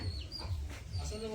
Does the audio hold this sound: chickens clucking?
yes